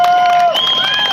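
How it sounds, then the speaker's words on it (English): A crowd cheers and applauds for a freestyle stunt rider, loud and steady through the moment, with whistles and shouts riding over the clapping. "a big round of applause for Aaron Twite"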